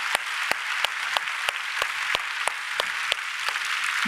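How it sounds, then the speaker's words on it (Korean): A church congregation at a Sunday worship service applauds to welcome missionaries, giving steady, moderately loud clapping with sharp individual claps standing out at a regular beat. "우리 뜨겁게 박수로"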